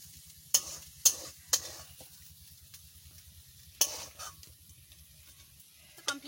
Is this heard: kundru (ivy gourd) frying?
yes